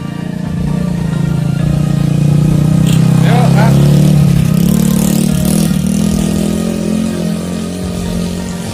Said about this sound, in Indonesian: Nah, ini ada motor nanjak.